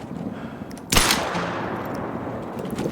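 A single loud 10mm handgun shot in the hunting game theHunter: Call of the Wild cracks sharply, then a long reverberant tail fades over quiet ambience.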